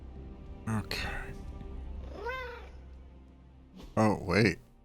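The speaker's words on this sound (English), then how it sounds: "I just heard a meow." A cat in the Midnight Suns video game gives a single short rising-falling meow in the middle of the clip, set between stretches of a person talking over a low game ambience.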